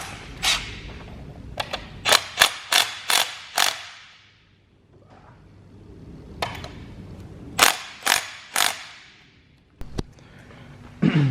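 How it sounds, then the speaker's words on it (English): A pneumatic rattle gun works at bolts on an old boat motor, firing short, loud, close hammering bursts in two tight clusters of about five, with quiet pauses and a few stray clicks between them. "I'm going to be dodgy and use the rattle gun. Apparently this is how you strip"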